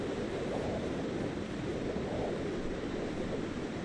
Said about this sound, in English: the ambient noise from the ocean, you can just hear that constant roar of water just filling through the bay.